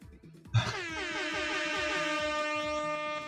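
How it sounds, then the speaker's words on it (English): A loud air horn blast bursts in after a brief low thump and holds as one sustained, brassy tone to the end, conjured by a Ghost Sound spell in a tabletop game session. "I'm going to cast Ghost Sound to play the air horn sound"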